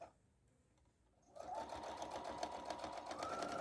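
A sewing machine starts a backstitch on an Easter basket craft after a quiet moment, then runs at a steady, close, buzzing clip.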